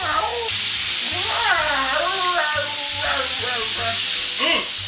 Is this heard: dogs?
no